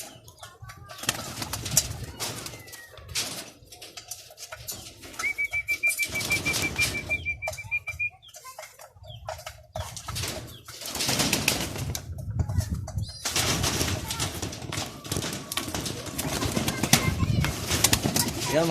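Young racing pigeons being trapped coo and beat their wings in bursts of flapping at close range, with a whistle and people talking in between.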